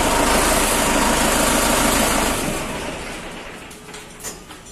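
A Mahindra 575 Yuvo Tech Plus 4WD tractor engine runs with a loud, steady rumble close by. It eases to a quieter, rougher idle after a couple of seconds.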